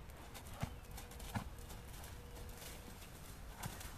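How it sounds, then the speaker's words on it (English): A four-year-old horse cantering, three soft hoofbeats spaced unevenly over a faint steady background, distant and quiet. "Lovely baby horses."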